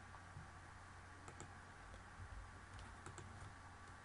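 Quiet, close computer keyboard typing, a few scattered key clicks and short bursts over steady background hiss, no talking.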